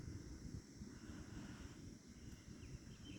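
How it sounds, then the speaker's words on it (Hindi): Steady outdoor wind rumbles and hisses against the microphone throughout, a continuous low broadband roar with no voices, during an outdoor meditation session for stress relief. "इतनी सुंदर हवा चल रही है, इसको महसूस करें।"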